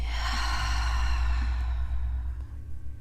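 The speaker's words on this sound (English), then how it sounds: "take a nice deep breath. And exhaling." A long, deep exhaled breath during a guided breathing exercise, close and soft, a steady airy rush that slowly fades toward the end with no talk.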